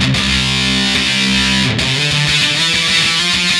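Electric guitar played through a Lekato Dirty Studio pedal on its SC1 distortion setting, a thick, saturated tone with sustained chords and a chugging, palm-muted riff, loud and continuous with no talking.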